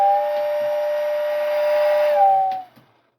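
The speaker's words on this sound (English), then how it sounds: "on the inside it's got a little air whistle mechanism in it, which when you push the button down here" Air whistle inside a model railroad interlocking tower on an O-27 layout, pressed by button: one sustained, fairly loud steady tone for over two seconds that shifts slightly near the end and cuts off quickly.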